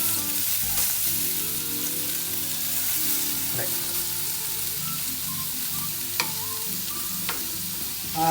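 Meatballs fry in a pan for spaghetti and meatballs with tomato sauce, giving a steady close hiss and crackle of sizzling oil with occasional stirring clicks and scrapes.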